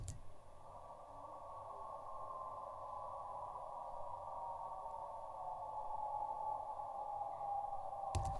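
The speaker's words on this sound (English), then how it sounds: "It's a train stopping." A sustained tonal whine from a stopping London Overground train slowly drifts in pitch over several seconds, steady and moderately loud above a low rumble.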